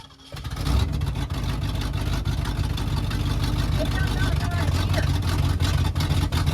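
An old Ford engine revs hard and holds a loud, steady roar throughout, with a low rumble beneath, close to the listener after a brief quieter start.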